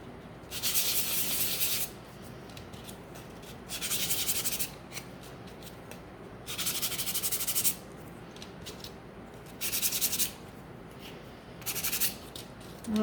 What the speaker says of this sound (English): Okay, so I'm gonna give these a quick sand.